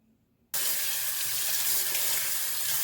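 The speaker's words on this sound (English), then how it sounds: "Wash your banana first" Tap water suddenly gushes on and runs steadily as green bananas are rinsed under it, a loud, close, continuous splashing stream in a sink with no voices.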